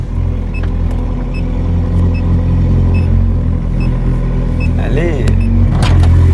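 Ferrari 430 Scuderia engine running loud and steady right after a cold start, a dense low rumble filling the whole stretch, with a brief rising rev swell near the end and people talking over it.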